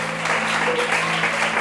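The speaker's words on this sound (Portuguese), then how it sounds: "Eu queria que você aplaudisse ao Senhor essa noite" A church congregation applauding during a Sunday worship service, a continuous wash of clapping that stays even and fairly loud throughout, with a low sustained hum underneath.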